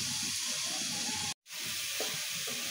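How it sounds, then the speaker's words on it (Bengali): Onions fry in hot oil until browned, a loud, steady hiss and sizzle close by, broken by a brief silent gap midway before resuming. "বেরেস্তার মতো পেঁয়াজটা লাল লাল করে ভেজে নিলাম।"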